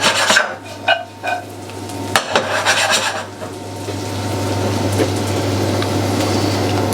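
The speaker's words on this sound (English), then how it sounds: "So I've been slowly stirring the almonds" Almonds being stirred as they toast in a pan for a Moroccan lamb tagine, with dry scraping and rasping strokes, a few sharp knocks early on, then a steady close rustle that continues on its own without talk.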